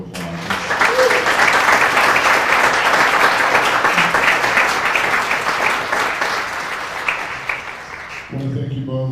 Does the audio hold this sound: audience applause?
yes